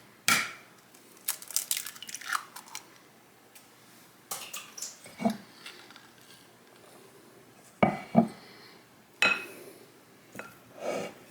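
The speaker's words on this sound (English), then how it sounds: "let's get this egg mixed in" An egg is stirred into chess pie filling in a bowl, giving intermittent clinking and scraping strokes in separate bursts with quiet gaps between them.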